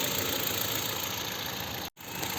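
A 2007 Ford Fusion engine idles smoothly and quietly at low revs after warming up, a steady even hum with a momentary cutout near the end.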